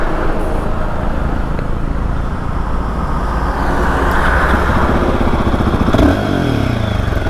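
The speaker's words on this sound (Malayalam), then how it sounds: "ഞാൻ അതിൻ്റെ ഒരു എക്സോസ് സൗണ്ട് ഞങ്ങൾക്ക് കേൾപ്പിച്ചു തരാം" A Royal Enfield Himalayan 450 motorcycle exhaust rumbles steadily up close at idle and light revs, loud and continuous, with other vehicles around.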